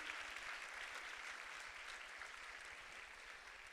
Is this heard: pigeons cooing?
no